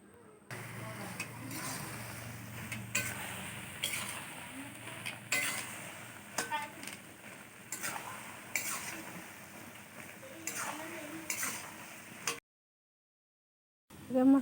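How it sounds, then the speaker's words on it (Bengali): A fish vegetable curry is stir-fried in a pan with a little oil, giving continuous close scraping and stirring, light clinks of a utensil against metal, and a faint sizzle before a sudden stop. "আবার একটুখানি তেল দিয়ে ভালো করে তরকারিটাকে আমি কষে নেব।"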